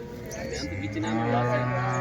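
Cattle at the weekly Punganur cow market low in a long, deep moo that swells and holds for about two seconds, fairly close, with crowd noise faint beneath.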